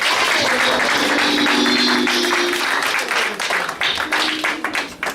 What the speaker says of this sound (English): Just give a clap offering to Jesus.